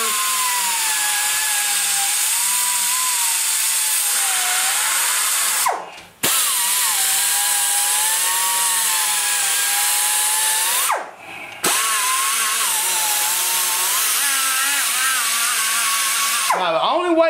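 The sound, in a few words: power tool polishing engine chamber with 200 grit flap wheel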